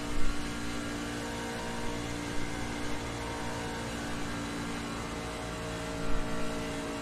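A race truck engine holds a steady, dense drone through a fast lap at Michigan, heard from inside the cockpit. It sounds loud and continuous with only slight swells and no talking.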